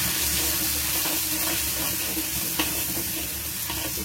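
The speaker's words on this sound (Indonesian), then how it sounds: "Kita tumis hingga bumbu harum" Blended spice paste stir-fried in oil over low heat for Indonesian chicken noodles, giving a steady close sizzle and frying crackle with soft stirring scrapes throughout, no voices.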